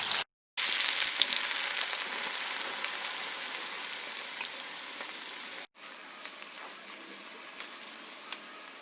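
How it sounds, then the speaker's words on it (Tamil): Onions frying in oil for mutton dum biryani, a steady crackling sizzle with small pops, close and continuous with two brief dropouts. "150 கிராம் வெங்காயத்தை இந்த மாதிரி எண்ணெயில் போட்டு"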